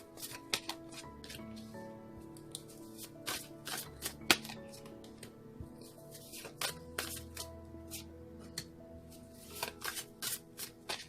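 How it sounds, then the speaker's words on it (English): Oracle cards are shuffled by hand close up, a soft run of quick riffling flicks and slaps repeating irregularly, quiet and alone. "One more shuffle, they say."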